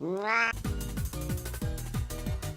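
A cat meows once, clear and rising, in a Nextbots fan game, followed by a rapid rhythmic series of loud thumping, descending electronic tones.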